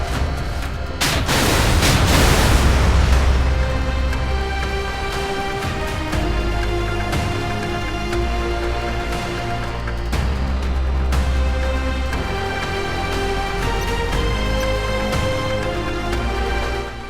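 Shkval torpedo launched in the naval game Modern Warships, a loud booming burst at the start giving way to a sustained roaring rush that holds steady over sparse game music until the end.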